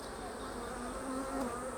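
Honey bees hum steadily at an open hive frame on a warm day, a close, continuous buzzing drone that swells slightly toward the end, with no talk over it.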